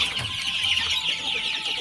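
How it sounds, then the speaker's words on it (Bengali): Farmyard chickens clucking as they gather to drink water, a busy overlapping chorus of close, continuous clucks and calls with no voices. "মুরগিগুলো কিন্তু চলে আসছে পানি খেতে"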